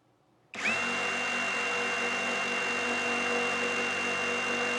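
A TapVolx 16.8-volt cordless impact driver whirs up abruptly at its third speed, about 2,900 RPM, and holds a steady, high-pitched motor whine at full speed, loud and close, with no voices.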